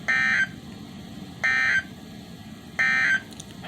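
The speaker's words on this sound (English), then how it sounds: "this has been a weekly test of the NOAA All Hazards Radio Public Warning Alarm System" A NOAA All Hazards weather radio weekly test sends out its alert tone in three identical short bursts evenly spaced over a low background hiss, with no speech.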